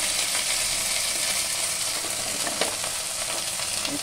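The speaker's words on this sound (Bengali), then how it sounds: "এগুলো সব দিয়ে একটু নাড়াচাড়া করে নেব" Pointed gourd, potato and papaya being stir-fried in a pan over lowered gas, a steady close sizzle with scraping stirring strokes and a brief clink near the end.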